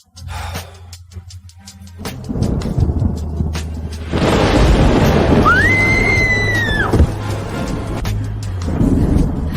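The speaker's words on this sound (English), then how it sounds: "It's just thunder." Thunder rolls as a deep, sustained rumble that swells and lingers through most of the stretch, with a sharp gasp-like vocal sound rising over it midway.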